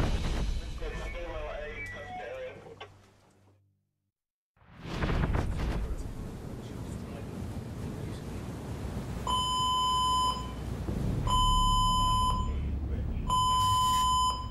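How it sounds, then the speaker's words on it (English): Aboard the Queen Mary 2 cruise ship, a fire alarm sounds as three repeated electronic tones over a background of engine-like rumble, following a stretch of muffled talk and a brief silence. "We got also fire alarm activated, cabin 54."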